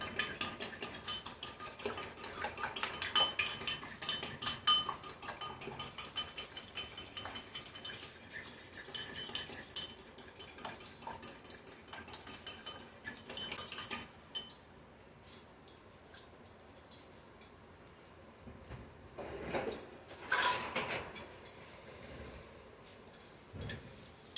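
Breadcrumbs being mixed by hand in a bowl for southern fried fish, with busy scraping and clinking for the first half, then quieter rustling and a couple of louder bursts of handling later on.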